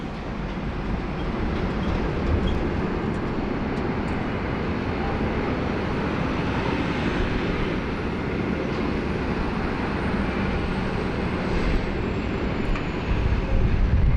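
A jet departing runway 34 left at Sydney Airport, heard as a broad, steady roar that holds for the whole stretch and swells slightly toward the end, with no talking over it.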